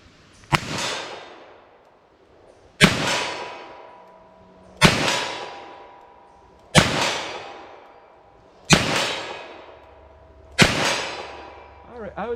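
Six loud .32 H&R Magnum revolver shots from a 4-inch barrel ring out at a slow, even pace, each a sharp crack followed by a reverberating decay.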